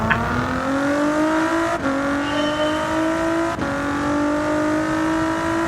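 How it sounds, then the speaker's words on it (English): Ford GT race car, the 2016 Le Mans GT class winner, racing in Gran Turismo 7, its engine droning loud and steady with pitch climbing through gears and two brief dips at upshifts. "I drove the Ford GT race car"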